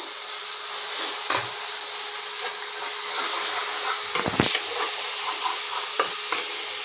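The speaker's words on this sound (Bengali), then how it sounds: "ওই তেলেই দিয়ে দিলাম পেঁয়াজ আর টমেটো বাটা" Onion and tomato paste sizzling steadily in hot oil left from frying potatoes for a Bengali aloo biryani, with a few sharp stirring scrapes and clacks. The frying is loud and close, and no voices are heard.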